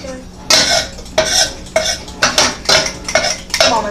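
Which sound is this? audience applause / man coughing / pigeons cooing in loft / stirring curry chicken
stirring curry chicken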